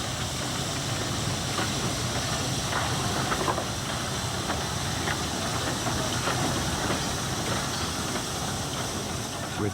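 A small 1922 Orenstein and Koppel steam engine on a 70-centimetre gauge sugar railway in Indonesia, heard as a steady, loud mechanical rumble and hiss with faint rhythmic clanks running continuously.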